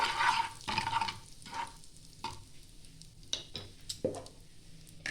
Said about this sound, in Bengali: ভাজা ভাজা হবে